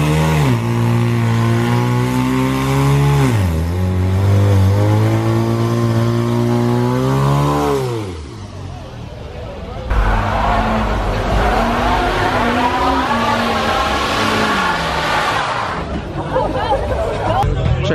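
At a car meet turning into a street takeover, a car engine revs hard and holds high before easing off, then another loud burst of revving takes over, with crowd chatter and shouting beneath.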